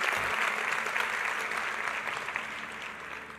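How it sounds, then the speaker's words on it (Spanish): A church congregation breaks into strong, sustained applause that fills the room evenly from start to finish. "Tiene un fuerte aplauso al Señor."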